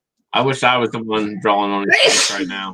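A single sharp sneeze bursts out at close range right after a person's spoken line, loud and breathy, with talk just before it.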